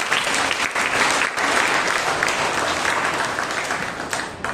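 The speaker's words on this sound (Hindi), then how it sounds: "जोर से प्रभु के लिए ताली बजाएं." A church congregation at a Monday prayer meeting claps loudly and continuously, dense applause filling the room with brief dips.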